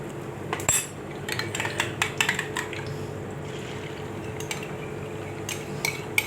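Garlic sautéing in a pan, heard mostly as a run of sharp metallic clinks and scrapes from a utensil working the pan over a soft, steady background hiss, close and moderately loud.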